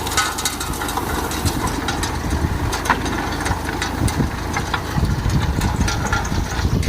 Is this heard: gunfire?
no